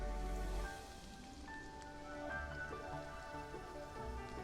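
Steady rain falls and patters in a video game's outdoor scene, a soft, even hiss with drips that stays fairly quiet beneath faint sustained musical tones.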